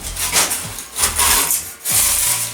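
A Yato YT-82190 hot knife cuts through extruded polystyrene foam in a series of close, loud squeaky rubbing strokes with brief pauses between them.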